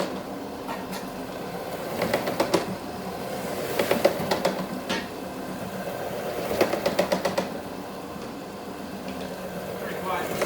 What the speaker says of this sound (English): now we're going to start the vacuum process